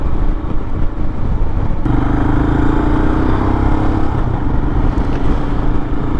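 A Royal Enfield Himalayan motorcycle rides along with a steady, loud engine drone and wind rush heard up close, the tone shifting slightly partway through as the rider holds speed.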